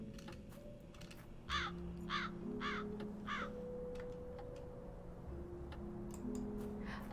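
A crow caws in the video game Black Mirror III, four harsh, rasping calls in a steady sequence over soft sustained musical tones.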